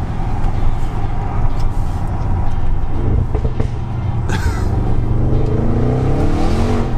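The valved exhaust of a 720 bhp stage 2 tuned Audi RS6 rumbles loudly and revs continuously, with deep throaty tones rising in pitch toward the end.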